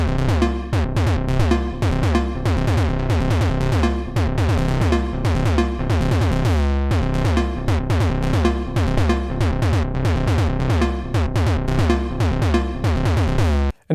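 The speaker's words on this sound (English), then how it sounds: "but also this sound as some sort of weird snare that sounds like this." A Nord Drum 3P patch in a drum and bass beat, with a weird, noisy, synthetic snare that hits in fast, dense, busy patterns. The playing is loud and continuous for the whole stretch, with no talk.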